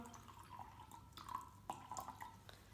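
Water trickles and splashes faintly into a container, with small drips and gurgles at a quiet, close distance.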